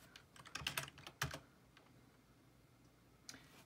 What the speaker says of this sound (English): I'm going to go on Amazon and type in my model number of the computer